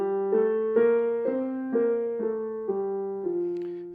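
A piano plays a sequence of eight notes with some notes lowered, giving an earthy, stable sound. Each clear, moderately loud note rings on into the next with no talking.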